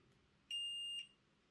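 A multimeter gives a steady, clear continuity beep lasting about half a second as its probes touch two poles of an electric motor armature, sounding alone against a quiet background.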